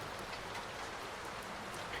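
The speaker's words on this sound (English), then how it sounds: "The rain's too strong. I'm waiting it out." Heavy rain in a video game, a dense, even hiss of downpour that stays steady and fairly quiet throughout with no voices.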